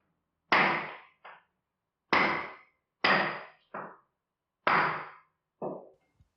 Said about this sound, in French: tu commences à entendre des bruits de marteau